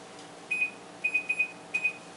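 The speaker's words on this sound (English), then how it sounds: "so set your timer for 3 minutes." A kitchen timer set for frying croquettes gives short, high electronic beeps: a single one, then a quick run of four, then a pair, over faint background hum.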